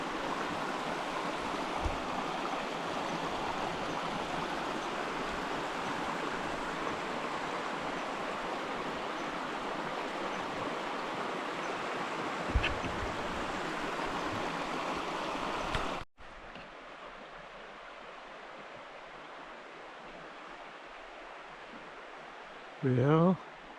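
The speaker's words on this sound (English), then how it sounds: "Yup, that's water." A stream flows with a steady broadband rush for about sixteen seconds, then cuts to a quieter outdoor scene with a brief close knock near the end.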